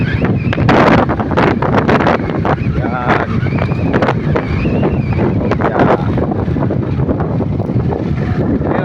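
Strong wind buffets the microphone with loud, gusty roaring throughout at a high viewpoint, while a person speaks briefly in Tagalog under the noise.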